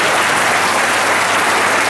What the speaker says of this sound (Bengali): আপনারা সকলে মিলে জোরে করতালির মধ্যে দিয়ে তাকে ধন্যবাদ